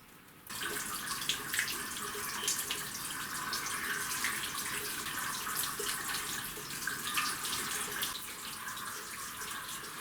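Clean water runs steadily into a home heating system being flushed, a constant close hiss and gush that starts abruptly and continues with no talking.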